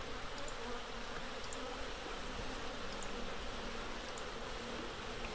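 A swarm of bees drones continuously in The Secret Order 2: Masked Intent, an even, moderately quiet buzzing hum with faint high clicks scattered over it and no voices.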